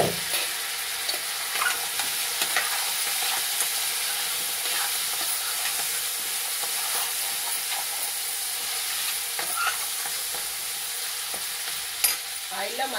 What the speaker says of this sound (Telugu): కొంచెం మగ్గనిద్దాము ఆయిల్లో.